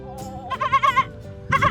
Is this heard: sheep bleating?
yes